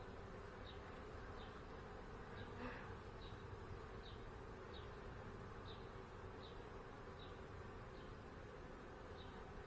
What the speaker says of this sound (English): Wow, there's a lot of bees.